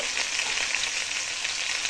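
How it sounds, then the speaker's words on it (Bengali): Potatoes and pointed gourd fry in hot oil, making a dense, even hiss with fine crackling that stays constant and close. "আলু আর পটলটা দিয়ে দিচ্ছি তেলে"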